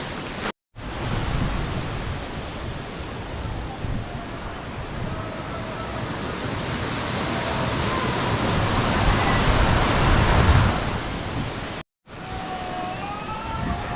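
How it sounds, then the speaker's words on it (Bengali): A steady, roaring rush of falling water from Kasis Waterfalls near Sasaram, Bihar, fills the entire stretch, broad and constant, broken only by two brief dropouts. "আমার পেছনে ওই যে ঝর্ণাটা"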